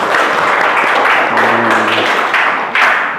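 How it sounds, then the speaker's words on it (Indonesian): Sustained applause from a classroom audience, a steady dense wash of clapping throughout with a brief tonal hum in the middle. "Tepuk tangan dulu untuk kita semuanya."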